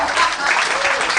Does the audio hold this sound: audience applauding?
yes